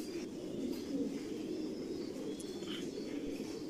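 Home-bred racing pigeons at a large pigeon farm cooing softly and steadily, a low continuous murmur from several birds close by with a few faint higher chirps.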